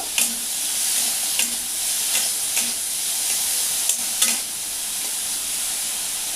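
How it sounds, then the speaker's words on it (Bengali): Pineapple chutney with turmeric being stirred in a pan, a continuous sizzle broken by several sharp spoon scrapes against the metal at an uneven pace, close up and without voices. "এবার আমি নাড়াচাড়া করে নেব"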